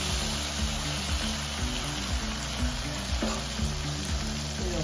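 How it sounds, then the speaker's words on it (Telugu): Brinjal pieces fry in a pan with a steady, dense sizzle of hot oil that runs unbroken from start to finish, close and fairly loud, with faint scrapes of stirring and no voices. "వంకాయలు ఫ్రై అనేయండి. ఫ్రై కాగానే టమాటాలు వేసుకోవాలి."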